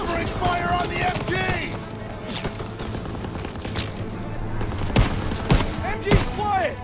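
Machine gun covering fire in Call of Duty: WWII, a steady rattling stream of shots with sharper louder bursts toward the end, mixed with shouted voices and battle noise.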